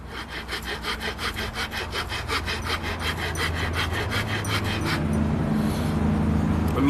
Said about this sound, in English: I'm using a rasp, which is like a file, but it's a lot thicker.